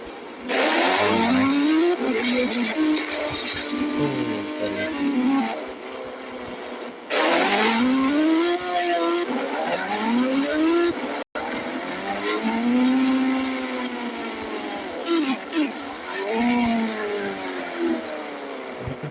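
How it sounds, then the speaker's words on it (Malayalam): The Ghost Rider motorbike in the mobile game Indian Bike Driving 3D gives a loud, continuous engine whine that rises and falls in repeated revving sweeps, with one brief cut near the middle. "ഭയങ്കര ഡേഞ്ചറസ് ആയിട്ടുള്ള ബൈക്ക്, ഗോസ്റ്റ് റൈഡറിൻ്റെ ബൈക്ക്"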